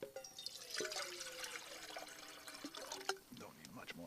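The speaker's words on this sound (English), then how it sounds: "I got so much water, I'm going to rinse my pot" Water splashing and running as a pot is rinsed at a shelter camp setup, close trickles and drips with a few clunks of the pot, and a voice talks briefly over it.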